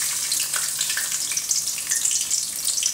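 Chopped garlic dropped into hot oil already tempered with cardamom, cinnamon and dried red chilli for dal fry, giving a bright, steady crackling sizzle close up with no talking.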